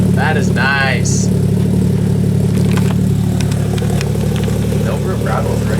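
A car engine idles with a steady low rumble throughout, fairly loud and continuous, with faint voices and brief higher sounds over the top.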